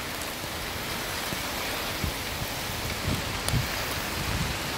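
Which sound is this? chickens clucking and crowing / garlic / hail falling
hail falling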